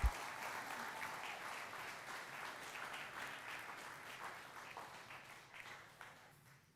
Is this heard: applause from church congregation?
yes